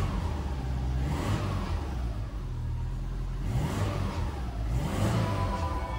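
A Subaru Impreza WRX STI 2.0 engine revs up repeatedly, rising and falling in pitch over a steady low rumble, close and fairly loud with no talking.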